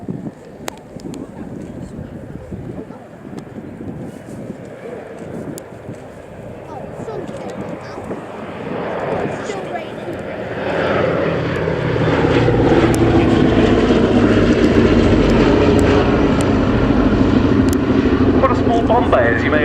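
A Boeing B-17G Flying Fortress bomber flies a display at Scampton Airshow, its piston propeller engines droning faintly at first and then swelling into a loud, steady roar as it passes close, with wind buffeting the microphone.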